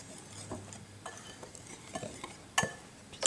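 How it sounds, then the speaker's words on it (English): Salt and flour being stirred together in a bowl for salt dough, heard as soft, irregular scraping and light clinks of a utensil, close and quiet, with a couple of sharper knocks near the end. "now we're going to mix the salt and the flour"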